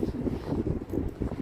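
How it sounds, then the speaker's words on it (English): Strong wind buffets a microphone carried in a pocket outdoors at a cemetery, giving a low, rumbling, uneven roar with no voices. "Mic in my pocket. It's just so windy."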